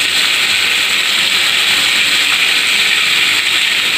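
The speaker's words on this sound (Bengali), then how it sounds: "এবার এটাকে ভালো করে ভাজা হোক একটু।" Turmeric, cumin and coriander powder fry in a hot pan, giving off a loud, steady sizzling hiss that holds evenly throughout with no talking over it.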